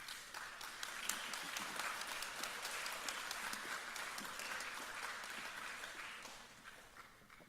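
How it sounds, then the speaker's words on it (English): Faint applause from a graduation ceremony crowd after the closing is declared, a steady distant patter of many hands clapping that gradually tapers off. "the closing ceremony announcement brings us applause"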